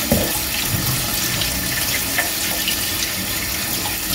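Steady running tap water splashes over boiled pig heads being washed in a sink, a continuous close hiss and spatter with no talking.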